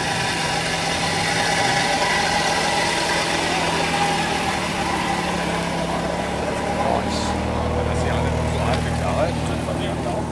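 A Citroën 2CV engine fitted in a kit car idles at an oldtimer market in Bockhorn, a steady, putt-putting mid-pitched drone heard close, with people talking over it.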